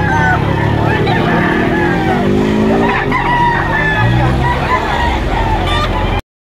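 Many chickens at the Lipa auction market in Batangas, with roosters crowing and hens clucking amid a busy, loud crowd, passing vehicles and people talking throughout.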